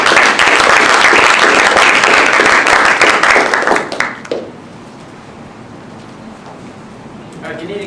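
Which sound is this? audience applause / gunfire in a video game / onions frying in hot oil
audience applause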